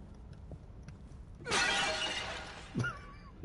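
Glass vase shattering in the horror video game The Evil Within, a sudden loud crash with a bright spray of breaking glass that decays over about a second, followed by a short thud and a faint tonal sound.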